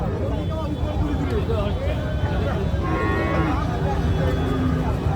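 Brahman, cross-Brahman and Sahiwal cattle low repeatedly at a busy Bangladeshi cow market before Qurbani, several drawn-out moos rising over steady crowd babble and nearby voices.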